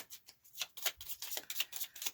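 Tarot cards being shuffled up close, a quick series of soft riffling bursts and flicks in an uneven rhythm, fairly quiet.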